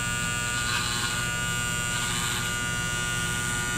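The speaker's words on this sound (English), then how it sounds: "let's put this trimmer to the test now on some groovy" An electric trimmer buzzes steadily and close up while cutting facial hair, its tone swelling slightly twice as it moves across the beard.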